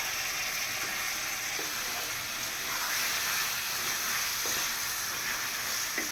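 Leg meat and spices sauté in a pan, giving a dense, continuous sizzle with occasional soft scraping stir strokes, fairly loud and close; no talking.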